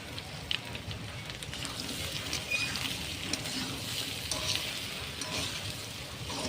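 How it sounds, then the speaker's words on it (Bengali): Potatoes frying in a pan with chilli powder, turmeric and salt, a dish later made with purple cabbage: a steady, close hiss and crackle of sizzling oil without a break and no talking. "ঢাকনাটা তুলে আমি আর একটু নেড়ে চেড়ে ভেজে নিচ্ছি"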